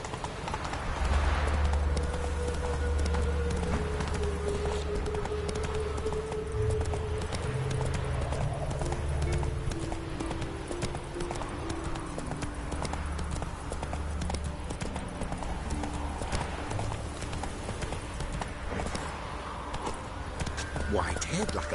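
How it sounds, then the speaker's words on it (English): Horse hooves clip-clop steadily at a trot in The Witcher 3, a continuous rhythmic gait heard close throughout, with someone speaking over it and game ambience beneath. "That's it, Roach. Giddy up."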